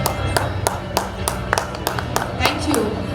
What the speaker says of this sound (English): Can we have huge claps?